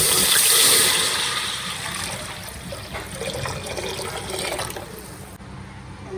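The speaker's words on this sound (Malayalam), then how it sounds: "വെള്ളം ഒഴിച്ചു കൊടുക്കാം." Water pours steadily into a pot for cooking biryani rice, a continuous gushing splash that gradually softens and settles over several seconds.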